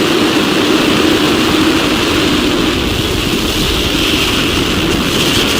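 A SpaceX Falcon 9 rocket lifts off carrying Transporter 17, its engines producing a loud, continuous broadband roar with a deep rumbling low end that holds steady throughout.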